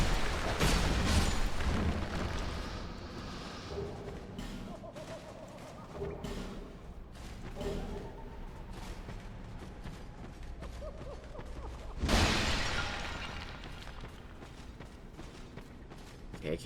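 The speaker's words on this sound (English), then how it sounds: "Just keep smashing away." In Dark Souls 2, a character repeatedly smashes skeletons, giving a run of irregular crunching, clattering hits with heavy thuds and a louder burst near the start and again later.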